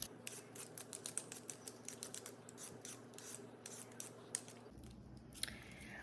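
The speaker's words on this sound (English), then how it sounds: "So we're going to quickly peel them." Potatoes are peeled quickly with a peeler, producing rapid rhythmic rasping scrapes in close, quiet succession, the strokes easing off toward the end.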